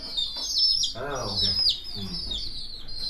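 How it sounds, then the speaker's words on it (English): Small birds chirp and tweet near an artist's workshop in Kashmir, their sharp repeated calls sounding over people talking. "He has birds also."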